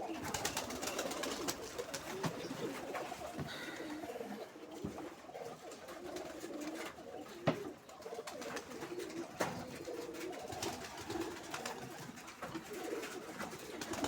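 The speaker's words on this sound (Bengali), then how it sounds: "কবুতরটা কিন্তু খুব ভালো কবুতর, ডাবর চাই কবুতর।" Giribaz pigeons coo steadily in a loft in Rajshahi, a low, continuous murmur of overlapping calls with a sharp knock or flutter partway through.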